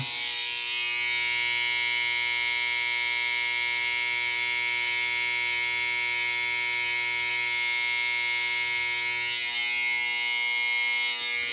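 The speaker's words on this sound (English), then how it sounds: "take the trimmer, grab the trimmer, turn your hand upside down" An electric beard trimmer buzzes loudly and steadily at close range, a constant high whine with a strong hum that runs unbroken for the whole stretch.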